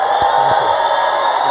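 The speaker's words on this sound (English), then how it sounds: "Let's give a huge round of applause." A large audience at the One Young World 2012 summit breaks into applause and cheering after a speech by Kofi Annan. The sound is a loud, dense, continuous wash of clapping from a big crowd.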